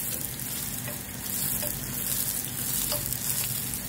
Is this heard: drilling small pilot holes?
no